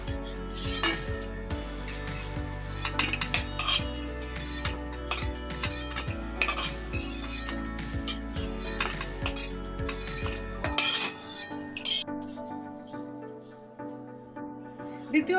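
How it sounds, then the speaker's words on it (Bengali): Fried lentil fritters lifted from a pan of hot oil, with clinks and scrapes of a metal utensil against the pan over a steady sizzle that drops away near the end. "প্রথম ব্যাচের বড়া ভাজা হয়ে গেছে আমি তুলে নিচ্ছি"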